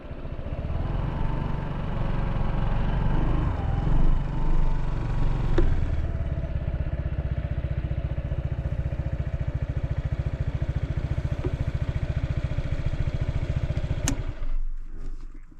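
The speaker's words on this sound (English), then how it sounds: "Let's spin this little scooty around here" A Honda ADV150 scooter idles and putters at low speed as it is turned around on a rainy ride, a steady close engine drone with light clatter that cuts off near the end.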